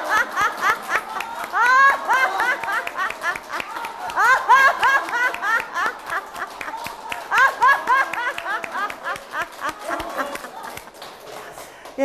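An audience at a laughter-therapy session claps, stamps and chuckles in bursts of rapid clapping mixed with laughter and chatter, close and lively, rising and falling over several seconds.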